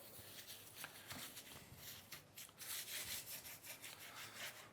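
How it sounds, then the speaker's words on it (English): Gold leaf rubbed by hand onto a glued surface over a black background, giving soft, fast, repeated brushing and scuffing strokes that come in uneven bursts, close and quiet, with no talking. "I'm just rubbing the leaf once it's coated to cover the surface."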